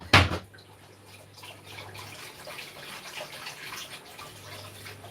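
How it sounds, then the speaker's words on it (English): Water is poured into a cooking pot while preparing peanut soup, starting with a sharp splash and then settling into a steady hissing trickle that runs for several seconds, close to the listener and with no talking. "I'm gonna put some water in here"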